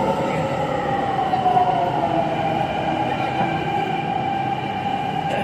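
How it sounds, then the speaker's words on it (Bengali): A Delhi Metro train pulls into Qutub Minar station with a steady rumble and a rising electric whine under a high tonal hum, continuous and fairly loud throughout. "এই যে আমাদের মেট্রো চলে এসছে"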